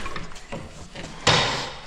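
An antique wooden washing machine mechanism is worked by hand, giving a few close, rapid ratcheting clicks and creaks of wood and gears, ending in a louder clunk.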